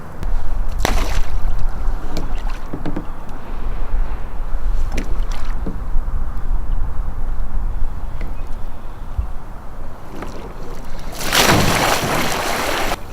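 Water sloshing and lapping around a narrow fishing kayak as it tips over, with soft splashes and knocks throughout, then a loud rushing splash near the end as the boat goes over outdoors on open water.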